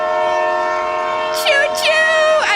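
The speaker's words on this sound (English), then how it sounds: "Honk that horn one more time" A train horn sounds in steady sustained blasts, joined by short swooping whistle-like bursts near the end, loud and close against a faint murmur.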